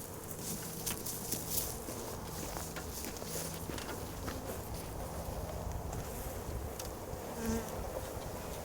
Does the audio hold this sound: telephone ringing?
no